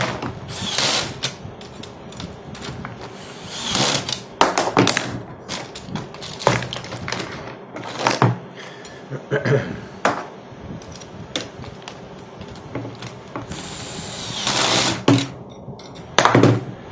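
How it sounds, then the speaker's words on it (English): A small DeWalt screw gun set at maximum clutch drives screws while a BatteryBlocs 6P 7S battery pack is assembled, with repeated short whirring bursts, ratcheting clicks and thuds, close and intermittent. "I love my little DeWalt screw gun."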